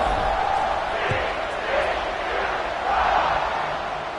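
A stadium crowd roars steadily before the kickoff of an Arizona State college football game, a loud, continuous wash of cheering that swells near the end.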